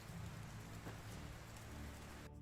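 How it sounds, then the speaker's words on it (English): Steady, dense video game rain patters continuously on a surface, a soft even hiss with a low rumble underneath. "Oh, it's sounding like rain"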